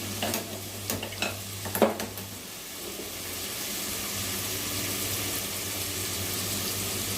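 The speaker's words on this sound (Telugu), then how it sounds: "ఇవి కొంచెం ఆయిల్ వేసుకుని ఇందులో ఎండి చేపలను వేయించుకోవాలి." Dried fish sizzling in hot oil in a pan for a brinjal and dried fish curry, with a few stirring clatters at first, then a steady, even frying hiss, close and moderately loud.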